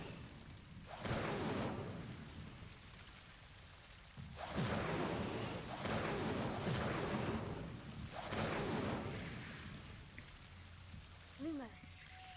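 Fiery whooshing bursts of the Incendio fire spell cast in Hogwarts Legacy, three broad roaring blasts in a row with a faint chime near the end.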